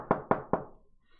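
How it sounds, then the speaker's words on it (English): Three sharp knocks on a door in quick, even succession, close and clear, each ringing briefly before fading into quiet. "when you are at the door, knocking at the door"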